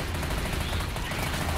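Rapid gunfire in Left 4 Dead rattles loud and dense, a continuous burst of overlapping automatic shots with a faint voice mixed in.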